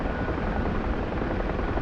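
An Apache helicopter in the DCS World flight simulator drones with a steady, dense rotor and engine roar, loud and continuous with no voices.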